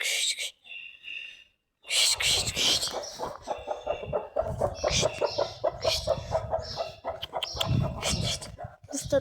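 Chickens cluck steadily and a rooster calls close by in a backyard coop, a dense run of clucks and squawks with some soft, hushed human voices mixed in.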